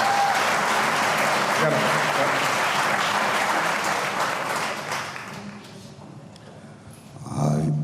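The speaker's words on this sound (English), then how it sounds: "Clap it up for the Lions." An audience at a mental health awareness panel breaks into loud, sustained applause that gradually thins out, with a voice rising again at the end.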